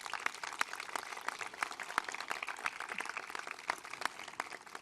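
Applause from an audience at a Los Angeles Fire Department valor awards ceremony honoring firefighters and their families, a steady crackle of many hands clapping at moderate distance, fairly quiet and continuous throughout.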